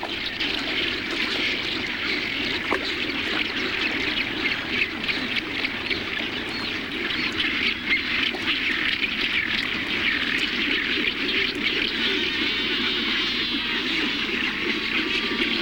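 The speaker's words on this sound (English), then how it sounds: "These are all black-browed mollymawks. It's December, and the colony is full." A crowded nesting colony of black-browed mollymawks in December keeps up a dense, steady din of overlapping calls and chatter. It runs unbroken and fairly loud throughout, with no talk.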